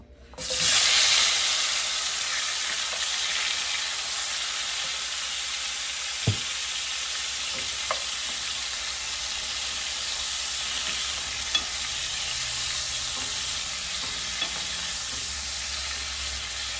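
Pointed gourd (potol) pieces coated in turmeric, salt and chili powder hitting hot oil over medium heat, an immediate loud sizzle that settles into a steady crackling fry with occasional utensil taps.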